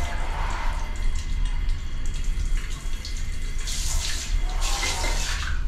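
Water spraying hard from a hose to rinse and clean near a jetmatic hand pump, a steady loud hiss and splash that swells stronger toward the end, with no talk.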